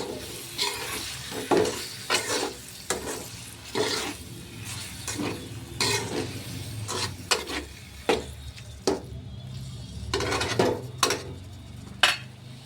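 Prawn chutney stirred in a frying pan, with repeated spatula scrapes and clinks against the pan over a continuous sizzle in an uneven, close-up rhythm.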